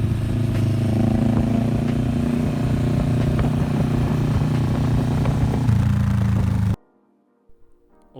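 Kawasaki Vulcan S 650 cruiser from 2015, bobber-style modified, its twin engine droning loudly and evenly at low revs before cutting off sharply to near silence with a few faint knocks.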